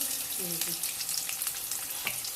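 Chicken rolls fry in hot oil with a steady, close bubbling sizzle and scattered crackles, and a faint voice briefly sounds underneath.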